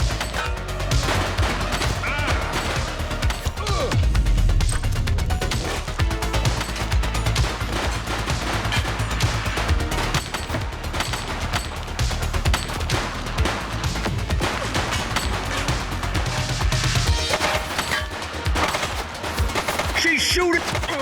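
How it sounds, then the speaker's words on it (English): Sustained rapid gunfire from a suspect in The Precinct video game, dense and loud over heavy low rumble, with shouting voices mixed in throughout. "She's shooting!"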